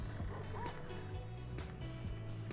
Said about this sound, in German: Da hinten bellen Hunde.